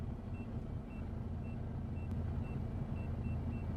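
A truck reversing with an ultrasonic sensor warning system sounds steady, evenly spaced reversing beeps over a low, constant engine rumble at a trade fair.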